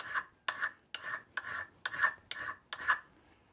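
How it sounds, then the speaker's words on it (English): A coarse machined-edge file rasps across metal in eight evenly spaced strokes, each a close, gritty scrape that starts sharply and fades, with short quiet gaps between. "we have the machined edge file for clean cut, and this is a really coarse one"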